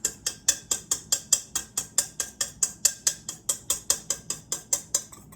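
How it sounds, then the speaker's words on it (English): Banana bread batter being whisked in a bowl, a steady run of about twenty-five quick clinking strokes, close and fairly even in rhythm, with no talking. "you're gonna wanna whisk. Just a gentle whisk."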